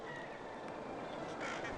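Crows call at dawn on a cloudy winter morning, their harsh caws blending into a dense, noisy outdoor wash, with a louder burst of calling near the end.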